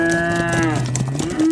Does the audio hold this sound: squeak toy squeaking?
no